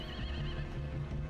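A horse neighs with a wavering whinny in the video game Sherlock Holmes: The Devil's Daughter, the call held steady over about a second with clip-clopping hooves underneath.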